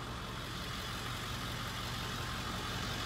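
A fuel truck's pump runs while a Cessna 310Q is refuelled, giving a steady, faint, unbroken mechanical hum and hiss with no pauses.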